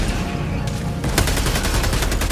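Enemy gunfire in Helldivers 2, a dense rattling fusillade that picks up sharply after a brief lull and stays loud and continuous to the end.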